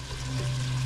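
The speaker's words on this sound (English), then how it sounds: "We're going to keep sauteing this until the onions are translucent and the beef is cooked." Lean organic ground beef and onions sautéing in a pan for American goulash, a soft steady sizzle, close and quiet, with no talk.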